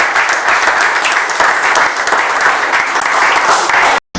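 A church congregation claps loudly and steadily throughout, a dense, continuous burst of applause close up that cuts off abruptly near the end.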